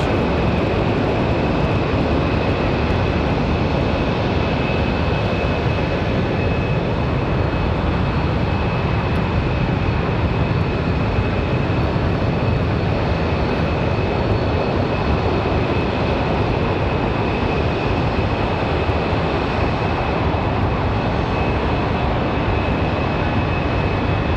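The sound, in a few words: airplane engines at Raleigh Durham airport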